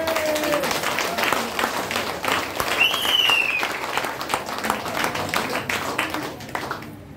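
A seminar audience breaks into sustained applause, dense clapping throughout, with a voice briefly audible above it before it fades at the end.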